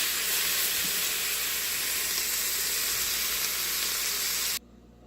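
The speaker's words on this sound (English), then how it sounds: "And the onions, and I'm just cooking them down till they're softened." Onions and garlic cook down in a pot for a potato soup, giving a steady, close, broadband sizzle and hiss that runs without a break and then cuts off abruptly near the end.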